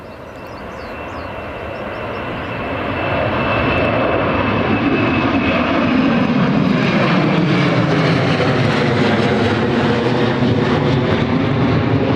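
A Jet2 Boeing 737 takes off from Runway 25 at Newcastle Airport in a crosswind, its jet engines building from a rising whine into a loud, sustained roar that holds steady and close, with no talking.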